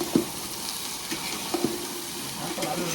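Onions and green chillies frying together in a pan with pulao spices, a low continuous sizzle broken by a few soft knocks of stirring.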